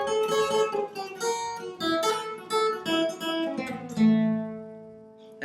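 A short guitar lick from a song is played alone, a run of plucked notes descending chromatically and ending on a held ringing note before a fresh attack.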